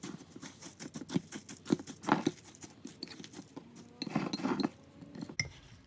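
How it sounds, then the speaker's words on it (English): A spoon stirs a thick oats mixture with protein powder inside a glass container, giving repeated scraping taps and soft clinks in an irregular rhythm, close and moderately loud, with no talking. "Then I'm going to stir all that together."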